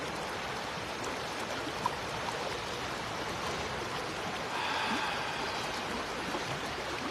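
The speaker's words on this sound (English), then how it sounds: "Just allowing the sound of the river, even the road noise, just to be there as it is without judging it." Steady broadband rush of a flowing river, with a faint, distant hum of road traffic blended underneath, continuous and even throughout with no voices.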